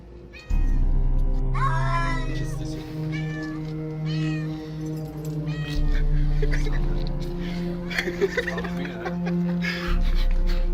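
Several cats meow repeatedly, some high and drawn out, over a steady low hum, with people talking and chuckling nearby.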